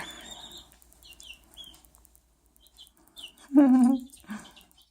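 One-week-old chicks cheep and chirp softly nearby, with one loud, drawn-out squawking call from an Australorp chick standing out near the end.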